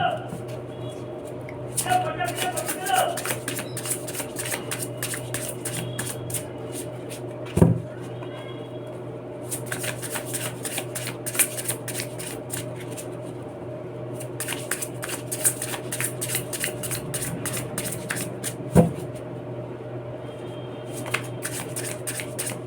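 Tarot cards are shuffled over and over, with brisk riffling and soft slapping bursts and a couple of firm knocks, while a voice talks throughout.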